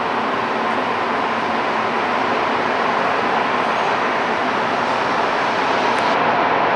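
An STM MR-73 Montreal metro train, deadheading out of service, rumbles steadily through Crémazie station, with a loud, continuous roar that holds level throughout.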